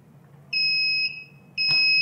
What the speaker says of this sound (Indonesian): Bebannya bunyi sekitar 2 detik ya. Jadi itu tandanya beroperasi.